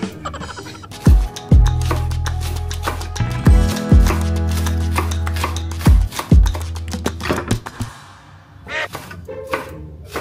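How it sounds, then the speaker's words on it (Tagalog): A knife chops Welsh onion on a cutting board in a kitchen, with rapid clustered thuds in uneven bursts over a background of music, close and fairly loud. "Kailangan kong i-preserve ang Welsh onion. So, kailangan chop, chop, chop, chop, chop."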